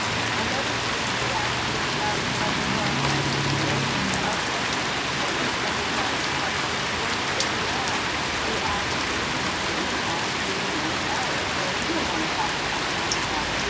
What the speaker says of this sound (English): First rain I think we've seen in months.